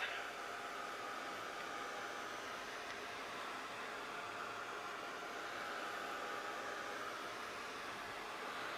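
A hair dryer blows over a painted canvas, giving a constant, even whoosh of airflow that stays steady and unbroken throughout, fairly quiet and with no talk over it.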